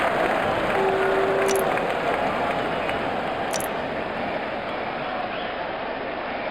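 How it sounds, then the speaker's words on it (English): Continuous broadband crowd roar and cheering in the Sachin Saga Pro Cricket video game, a steady wash of stadium noise lasting throughout with no clear breaks. "The crowd is going crazy."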